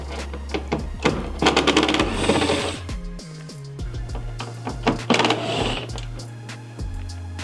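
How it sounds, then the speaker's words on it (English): Ratcheting socket wrench with an 8mm socket backing out taillight bolts on a Ford F-150, bursts of rapid close clicking in two runs separated by a short pause. "there are two bolts on the back side of the taillight that will hit with the 8mm to get this all released"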